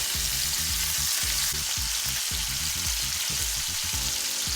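Sausages frying in a pan with rendered bacon fat, a steady crackling sizzle with rhythmic bursts of popping, close and moderately loud, no talking.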